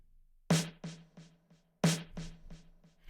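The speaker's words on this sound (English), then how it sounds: "And then here's our snare sample that we layer in." A punchy layered snare sample hits in a repeating pattern, each strike followed by softer ghost hits, two bars looping cleanly with no voices.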